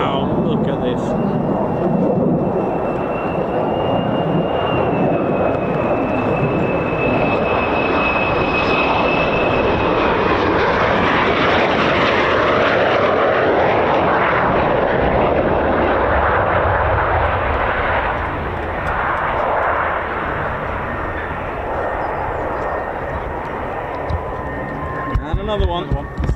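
F-16 fighter jets pass overhead at a military air base with a loud, sustained engine roar that swells and fades over about 26 seconds, with people talking over it.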